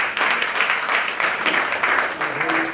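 An audience at a stage gathering on old theatre welcomes a guest with warm, dense applause that holds at a steady level throughout.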